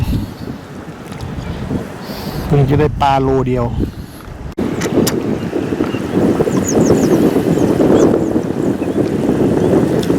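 Strong wind at Lam Takhong reservoir while lift-net fishing, a steady loud gusty roar buffeting the microphone throughout with choppy water, and someone speaking briefly near the start.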